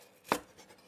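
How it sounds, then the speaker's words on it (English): A single crisp, sharp chop of a knife through crispy deep-fried pork belly on a chopping board, close and brief against quiet surroundings. "Let me put the mic near the chopping board."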